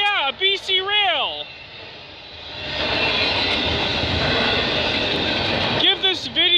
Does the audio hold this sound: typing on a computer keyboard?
no